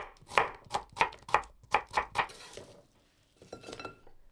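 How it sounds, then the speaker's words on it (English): Kitchen knife chopping an onion into chunks on a cutting board, about eight sharp close knocks in a quick steady rhythm, followed by softer handling clatter. "Cut 1 onion into chunks."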